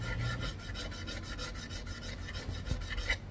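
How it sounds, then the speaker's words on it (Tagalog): A steady, repetitive rasp of a file or abrasive rubbing across a piston ring end gap during an engine overhaul, continuous strokes close up with no talking. "So dahan-dahan natin lilihain."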